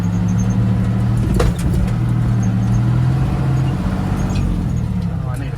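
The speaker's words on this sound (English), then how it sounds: "Trying to drive with one hand and shift and all of that." Truck engine running steadily while driving, with a low droning hum and brief shifts in pitch, heard up close from the cab.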